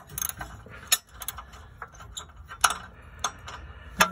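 Wrench on an exhaust manifold bolt of a Mitsubishi 6G75 3.8 MIVEC engine in a 2006–2012 Eclipse: sharp metallic ratcheting clicks and taps come in irregular bursts, close and fairly quiet.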